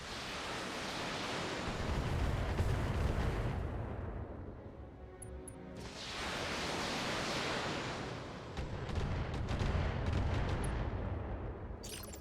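Mechs in BattleTech launch missile salvos, two long roaring whooshes of dense noise that swell and fade with a short quieter gap between them, loud and close.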